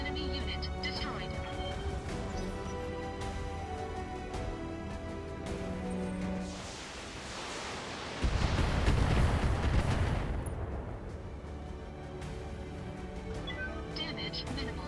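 Mech weapons volley in the BattleTech video game, with repeated gunfire and artillery-like thuds building to a loud explosive rumble midway, under game music and a voice speaking.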